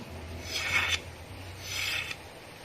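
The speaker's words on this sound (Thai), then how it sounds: "วิธีขูดตอก" Bamboo strips are scraped smooth by hand to prepare them for weaving a sticky rice basket in traditional Isan style. Two long, close rasping strokes are separated by a short pause, with no talking.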